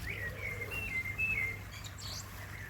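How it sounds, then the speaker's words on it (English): A blackbird sings outdoors on a sunny summer evening in a garden, giving a faint, fluting whistled phrase and some higher chirps over a low background hum. "Song of the blackbird."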